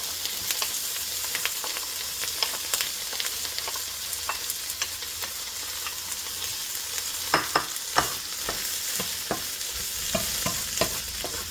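Peppers and onions fry in a very hot pan, giving a steady, dense sizzle broken by frequent clicks and taps as they are stirred and tossed.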